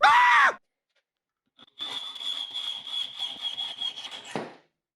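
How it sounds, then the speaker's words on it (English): A short tone sounds first, then after a silent gap a thin, steady rasping hum with rapid rhythmic scraping runs for about three seconds as the heads are cut off screws at least 30 millimetres long, ending in a brief thud. "Then cut the heads off."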